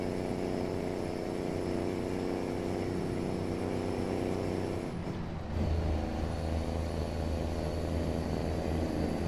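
Truck engine from a truck simulator video game with a Johnny Cash engine pack on a Marmon truck, a steady loud droning idle with strong low harmonics, briefly dipping midway before resuming, no talk.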